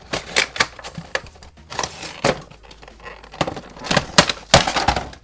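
Jango Fett 6-inch Star Wars Black Series action figure packaging being opened by hand, with dense crackling, tearing and clicking of plastic and cardboard in quick irregular bursts, close up.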